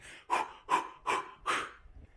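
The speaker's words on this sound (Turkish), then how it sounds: "Nefes almalıyım bir saniye." Four heavy, rhythmic breaths in quick succession, close and audible, each a strong huffing exhale.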